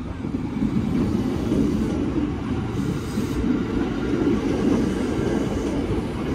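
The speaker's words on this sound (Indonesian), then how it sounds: "TM 7000 merupakan KRL Tokyo Metro, merupakan KRL bekas dari Jepang tahun 82 tuh" A Tokyo Metro 7000-series electric commuter train from 1982, now running in Indonesia as a non-passenger parade special, rumbles past with a steady, loud low roar and wheel noise that holds throughout, no voices.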